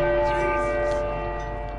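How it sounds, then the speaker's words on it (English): A large bell rings close and loud in the video game Uncharted 4, its sustained metallic tone slowly decaying across the whole short moment. "This guy's gonna go deaf by the time I ring all four bells for sure."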